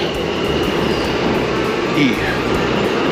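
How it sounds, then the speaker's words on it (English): A New York subway train on the E line hums and rumbles steadily nearby, a continuous low drone with faint squeaks and hiss over it. "This is the famous New York subway."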